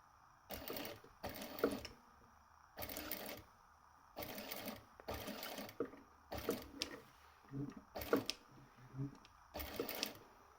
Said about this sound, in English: Industrial sewing machines.